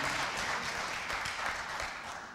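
Sustained applause from a crowd, a dense wash of clapping that continues steadily and tapers slightly toward the end.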